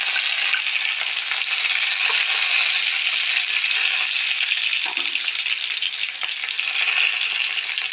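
Mustard seeds spluttering in hot oil for a curry, giving a steady, bright, crackling sizzle that stays loud and even, with scattered tiny pops and no voices.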